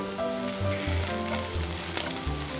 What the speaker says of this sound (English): Maybe थोड़ा सा oil को गर्म करने के बाद में you can put onion in it.